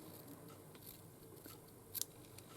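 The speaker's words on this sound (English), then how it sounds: "so we'll just trim that off" Scissors snip once through the end of an embroidered ribbon during a craft project, giving a short, crisp cut that stands out against a quiet room.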